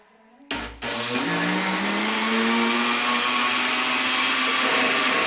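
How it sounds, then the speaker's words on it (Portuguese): Countertop blender whirring steadily as it blends a liquid batter for whole wheat homemade bread; a brief knock, then the motor starts and holds a loud, continuous high-pitched drone to the end. "agora a gente vai bater então a nossa mistura no liquidificador"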